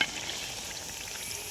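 Fritters (pitha) frying in hot oil give a steady, even sizzle and crackle throughout, close and fairly loud, with no voices.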